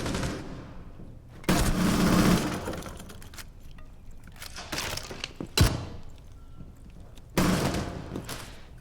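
Gunfire in a video game replay, loud broadband shots aimed at a window, bursts around one and a half seconds, near five and a half seconds and after seven seconds, with quieter game noise and clatter between them.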